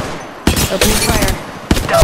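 Gunfire in a battle royale video game, loud close bursts of rapid shots in two or three volleys separated by short gaps.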